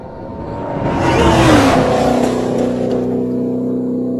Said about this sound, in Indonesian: Ray sendiri menggunakan mobil Chevrolet merah milik si juragan yang walaupun kecepatannya tidak akan mampu menandingi kecepatan si Cortez